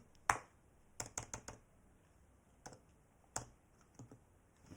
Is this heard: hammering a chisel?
no